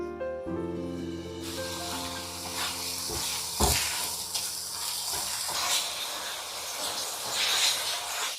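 Spices and mushroom broth sauté in a wok for a Surabaya-style beef dish, a steady close sizzle and hiss with scraping stirs throughout, no talking.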